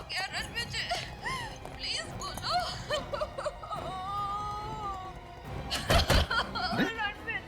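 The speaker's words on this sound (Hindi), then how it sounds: "हाँ सर, ये तो रोने की आवाज है।" Wailing, sobbing cries with rising and falling pitch, somewhat distant, mixed with other voices and a sudden clattering burst near the end.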